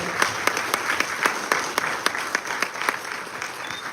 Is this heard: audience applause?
yes